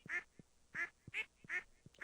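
Ducks on a farm in the video game Stardew Valley quack in a steady series of four nasal, evenly spaced calls, each with a soft low patter between, heard clearly with no talk.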